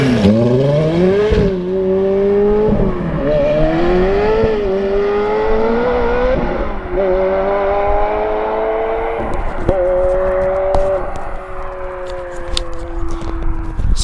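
Ferrari F430 engine revving hard and accelerating through several gear changes, loud and close with rising pitch sweeps and brief drops between shifts, sustained throughout.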